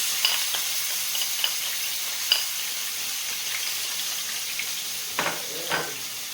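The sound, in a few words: garlic and onions frying in a pan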